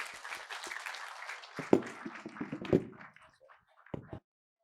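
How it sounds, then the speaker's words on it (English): Scattered audience applause at an oil and gas pipeline summit in Bengaluru, a small group clapping that thins out into a few separate loud claps before dying away. "Give him a big round of applause."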